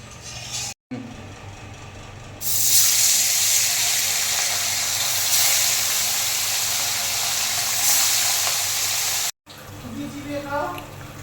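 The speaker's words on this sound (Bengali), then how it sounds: "মাছ দিয়ে দিয়েছি ঝোলে, এবার জলটা ফুটে উঠেছে" Gang khoyra fish simmering in a curry broth that has come to a boil, a loud, steady bubbling hiss filling several seconds, with quieter kitchen background before and after.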